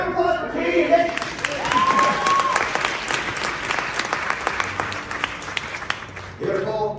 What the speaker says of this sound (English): Round of applause for Katie and Nate.